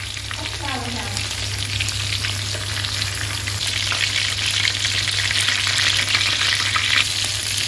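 A whole rat sizzles steadily in hot oil with lemongrass and chili, a loud, continuous crackling fry close up, with no talking over it.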